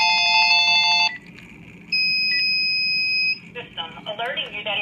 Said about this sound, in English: And again, we get the phone call.